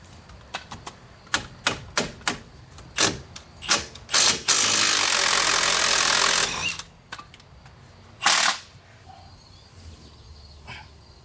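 Impact gun on a lug-sized ball joint nut of a Nissan van, a run of short sharp bursts followed by one long sustained hammering rattle of about two seconds, then a final brief burst, close and loud without talk.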